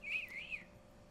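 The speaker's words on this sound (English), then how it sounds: "My terrible attempt at whistling." A person whistling a short, wavering tune of a couple of sliding notes, quiet and close, with no other sounds.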